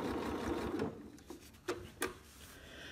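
A Janome quilt binder sewing machine stitches binding onto a quilt with about a second of close, steady whirring, then stops, followed by a few sharp clicks and handling knocks.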